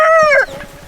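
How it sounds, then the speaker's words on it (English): A rooster crows loudly and close by in a farmyard, its strained crow cut short after about half a second, leaving quieter ambient farm sounds. "really RJ, you're a loud little rooster, you know that? You always crow when I'm trying to talk"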